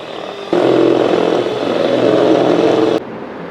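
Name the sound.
electric mixer beating powdered sugar for plum cake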